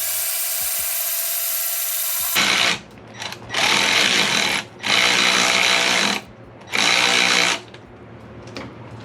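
Power tool running in loud bursts while a bolt is tightened after fitting the belt on a turbo Subaru Forester: an initial loud whine, then four separate high-pitched buzzing pulls with short pauses between them, close and with no talk.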